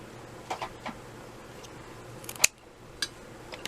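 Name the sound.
scissors cutting a paper piece in half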